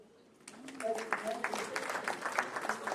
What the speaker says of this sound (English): you can stand up, Grace Nisima, so that the people can clap for you